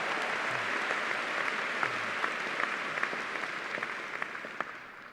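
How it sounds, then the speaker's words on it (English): Broad, steady applause from a large outdoor crowd at a William & Mary commencement ceremony, a distant wash of many hands with a few sharper claps, fading slightly toward the end. "Go ahead, you clap."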